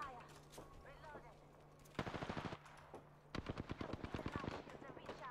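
Bursts of automatic gunfire in The Division 2 shooter game, two rapid volleys of loud sharp shots under a steady electronic hum, with faint game voices between them.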